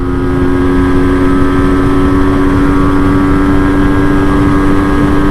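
A loud, steady motorcycle engine drone at about 6,000 revs while shifting into fourth gear, close and continuous throughout, with a sustained whine and rushing wind noise; no clear break or pitch change stands out.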